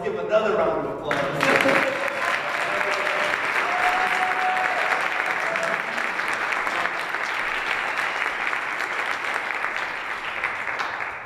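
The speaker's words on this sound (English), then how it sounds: "let's give another round of applause." Sustained applause from a large crowd, steady and loud, with the clapping holding evenly for several seconds before easing slightly.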